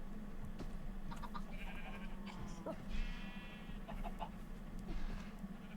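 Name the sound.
camel noises from a video game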